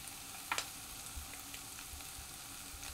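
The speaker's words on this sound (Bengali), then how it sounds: "আমার পেঁয়াজ আদা রসুনটা সুন্দরভাবে কষে নিয়েছি।" Onion, ginger and garlic sautéing in a pan for a Bengali kakrol kalia, a quiet steady sizzle with a couple of faint clinks from stirring early on, no voices.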